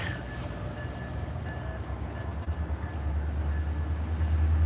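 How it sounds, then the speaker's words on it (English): A Norfolk Southern locomotive and slug move out, producing a deep diesel rumble that holds steady and then grows heavier and louder toward the end, with no talking. "As we watch our locomotive and slug"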